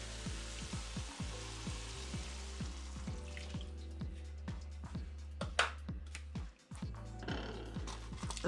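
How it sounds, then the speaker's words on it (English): Beef broth poured into a pan of browned ground beef hisses into a steady, quiet sizzle with crackles and occasional clicks of stirring, close by and without talk. "we're gonna add the beef broth"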